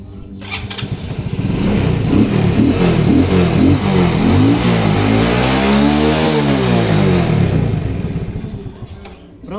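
A Shineray motorcycle engine starts after a repair for an engine noise and idles loud and close, rising and falling through a few throttle revs before settling and cutting out near the end.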